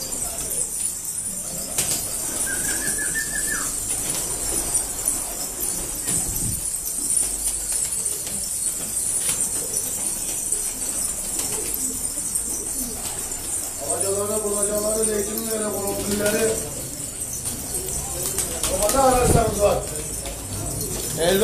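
Pigeons at a pigeon-selling café in Gaziantep, Turkey, with cooing calls and bits of wing flapping amid room noise, while people talk nearby.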